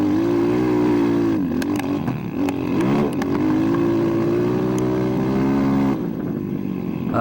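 An SSR 189 motocross bike engine runs steadily at close range, its tone dipping and climbing through gear changes and throttle blips, with a clattery mechanical edge and no talk over it.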